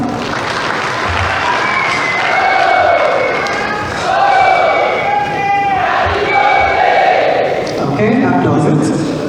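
A forum audience applauding and cheering, a broad crowd roar with shouts rising in waves, fairly loud, with a voice talking over it.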